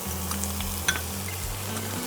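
Mixed vegetables for Bengali shukto, including pointed gourd, pumpkin and ridge gourd, are stirred and fried in a pan with a steady sizzle and a low hum underneath, and one brief clink partway through.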